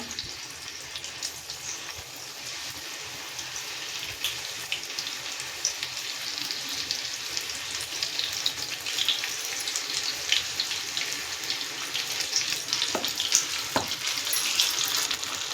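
Vegetable chips fry in hot oil in a kadai, a steady broadband sizzle and crackle that runs throughout, with a few sharper pops near the end and no talking.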